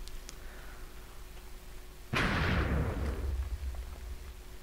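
Minecraft fireworks go off in the video game: one sudden loud burst with a crackling, sizzling tail that fades over about two seconds, following a quiet stretch with faint ticks.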